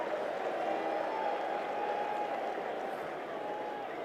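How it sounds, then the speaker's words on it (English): Sustained crowd applause and cheering at The Oval in London during day 4 of the England v New Zealand first Test cricket match, a steady broad roar of clapping from the stands that holds for several seconds at moderate distance. "You've got an ovation both sides of the pitch"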